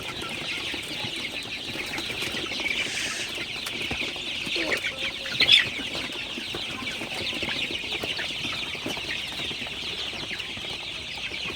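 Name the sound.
chickens clucking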